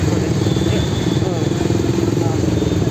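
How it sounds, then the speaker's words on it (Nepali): A Bajaj Avenger motorcycle engine runs with a steady low thumping rumble close by, continuous throughout, while a person talks over it. "एभेन्जर बाइक पनि बुलेट जस्तो छ त अनि"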